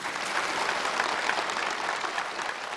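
Applause for a duet of singers at a live New Year music show: dense, even clapping from a large audience, loud and sustained throughout with no voices over it.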